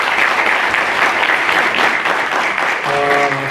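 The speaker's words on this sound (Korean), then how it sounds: "이제 토크쇼 우리 주인공으로서 다시 한 번 더 큰 박수를 주시기 바랍니다." An audience at a youth forum talk show in Korea breaks into sustained applause, a dense steady clapping from many hands at close range, with a faint voice or tone emerging near the end.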